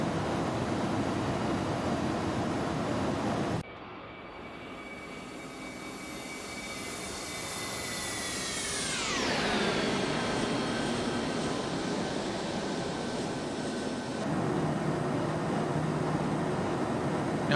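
An iniBuilds A310 jet making a flyby in X-Plane 11, its engine whine building and then sweeping sharply down in pitch as it passes overhead, followed by a sustained loud roar.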